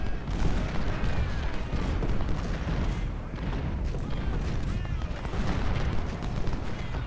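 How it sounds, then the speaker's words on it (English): Cannon batteries in the Ultimate General: Civil War battle thunder repeatedly, booming volleys and crackling musketry layered in a continuous dense battle din at moderate level, with no break. "Let's order our artillery to focus fire on them."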